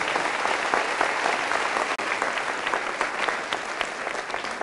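A congregation claps loudly during a Catholic sermon, dense sustained applause from many people nearby, with a brief dropout midway and no speech over it.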